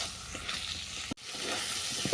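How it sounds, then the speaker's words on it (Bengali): A thick spice paste with prawns and potato sizzles and fries steadily in a hot pan, a continuous crackling hiss with a brief break as it's stirred. "এটাকে আরও সাত মিনিট আমি কষিয়ে নেবো"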